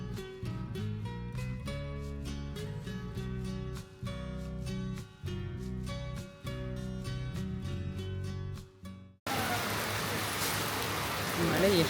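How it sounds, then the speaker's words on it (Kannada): Heavy rain in Nusa Penida, Bali breaks in as a loud, dense wash of noise at the very end, after a long stretch of music. "ಮಳೆ ಎಷ್ಟು ಜೋರಾಗಿ ಬರೋಕ್ಕೆ ಶುರುವಾಯ್ತು"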